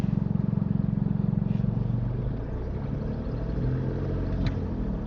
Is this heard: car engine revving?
yes